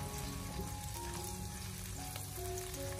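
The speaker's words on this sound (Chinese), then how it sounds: "下切好的姜和葱，用小火给它翻炒一下，用小火给它不停的翻炒" Ginger and scallion stir-fry over low heat in a wok, giving a steady, close sizzle and frying hiss throughout with faint stirring clinks and no voices.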